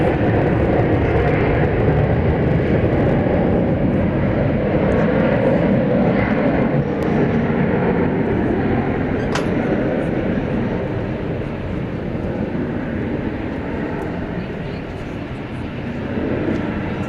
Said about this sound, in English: Flight 2003 American Airlines is what you're looking at there. It is going to Seattle in Washington State. It's an Airbus A321.